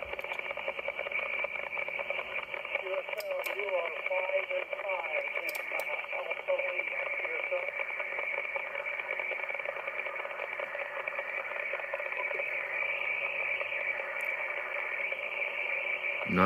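Amateur radio CQ call received on a receiver running a QRM eliminator and noise blanker, a steady band of hissy, warbling signal throughout with faint voice-like modulation and a few brief clicks.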